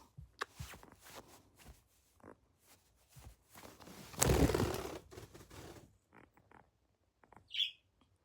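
A pet bird indoors gives scattered short chirps, then a loud, harsh scream lasting about a second, and a few more sharp calls later. Faint rustling fills the gaps, and no one speaks.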